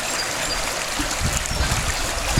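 Water is poured into a camping pot holding a handful of sand and gravel, a close, continuous splashing trickle with soft gurgles and gritty bursts growing busier in the second half.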